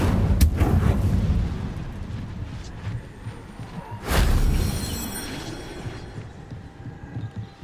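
An Incendio fire spell is cast in Hogwarts Legacy, two sharp, booming bursts about four seconds apart, with a crackling, rumbling tail under continuous game ambience.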